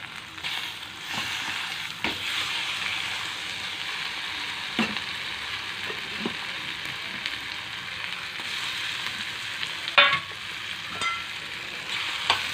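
Curry leaves and spices sizzle steadily in hot oil in a pan for Telugu-style brinjal curry, a continuous crackling hiss with a few sharper pops and stirring clicks, close and alone with no talking.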